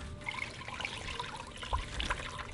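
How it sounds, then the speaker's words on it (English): Water is emptied out in a short, continuous trickle and pour, with small splashy bursts over a steady watery hiss. "We need to empty out this water."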